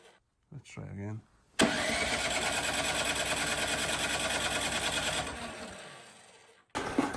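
A short voice, then a loud, steady electric blower motor whir strains and buzzes for about five seconds before winding down without starting properly, with a brief restart at the end.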